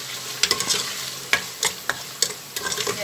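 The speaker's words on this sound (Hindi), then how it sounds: "उसके साथ अच्छे से जो है इसको मैं भुनाई कर दूँगी" Ginger garlic paste sizzles in a hot pan and is stirred with a spoon, a steady close frying hiss broken by several sharp scraping strokes at an uneven pace.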